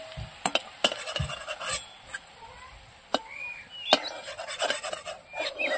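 Soybean kebabs frying in oil, with a light background sizzle punctuated by sharp, irregular clinks and scrapes from turning the pieces, close and fairly loud.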